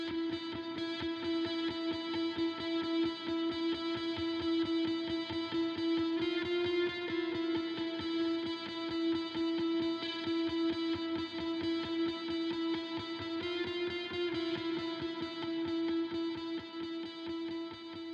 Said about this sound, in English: does sound like a guitar, but in order to try and reduce the pick noise and almost make it sound like a synth